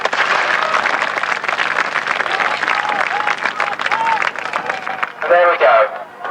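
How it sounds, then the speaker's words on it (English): Crowd at a Napoleonic battle re-enactment by the Napoleonic Association in 1992 cheers and claps for four Austrian troops, a steady broadband roar of applause with voices mixed in and a louder burst of shouting near the end. "Give them a cheer."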